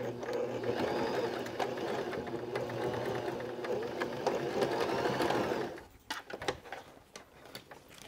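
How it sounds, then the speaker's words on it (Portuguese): A sewing machine stitches scraps of bias tape with a steady, fairly quiet whirring run for about six seconds, then stops, followed by a few soft clicks and fabric handling noises. "eu vou costurar nessa dobra aqui do viés"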